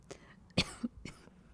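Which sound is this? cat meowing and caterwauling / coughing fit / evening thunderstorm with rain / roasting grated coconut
coughing fit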